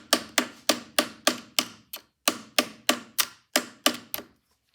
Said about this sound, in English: And now we'll just go tappy, tappy, tappy.